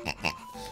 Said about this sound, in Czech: Prasátko!